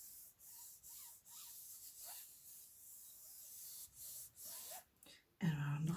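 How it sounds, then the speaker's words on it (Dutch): A sheet of cardboard is rubbed over paper laid on a gel printing plate, giving soft rhythmic scratchy strokes at close range, repeated several times, followed by a louder burst at the end. "Dan wrijf ik gewoon over het papier."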